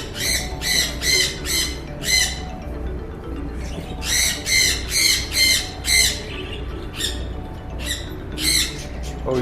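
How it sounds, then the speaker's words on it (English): Birds squawk outdoors in repeated harsh bursts, several rapid calls in clusters, fairly close and loud over a low steady background hum. "You hear the birds?"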